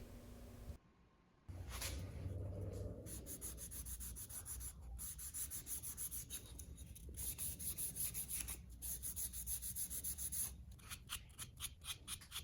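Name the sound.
final sanding of wooden serving tray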